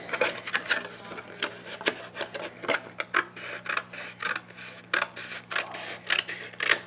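Cardboard being cut in two, likely with scissors, at a table: a steady run of short, close snipping and rasping strokes with brief pauses, no talking.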